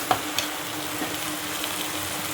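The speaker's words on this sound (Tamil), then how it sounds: "இப்போ நம்ம தண்ணி சேர்த்துக்கிடலாம்." Masala for duck curry frying in a pan after water is added, giving a low steady sizzle with a couple of quick stirring scrapes near the start.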